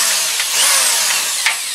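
A power drill whines at high speed in a garage during roof repair work, a continuous bright buzz with slight pitch shifts, close and loud, without speech.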